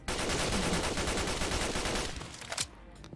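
A homemade SMG from the Fallout 4 video game fires a long, rapid sustained burst, loud and close, that cuts off near the end with a few trailing mechanical clicks.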